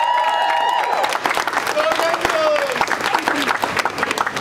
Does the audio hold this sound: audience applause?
yes